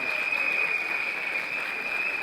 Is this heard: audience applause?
yes